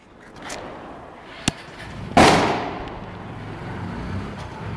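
Firecrackers go off outdoors: a sharp crack, then a louder, nearer bang that rumbles and slowly fades into background noise.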